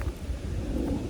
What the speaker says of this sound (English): I think that's a plane, not thunder. Oh, that's thunder.